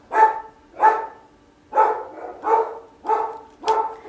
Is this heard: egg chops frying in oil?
no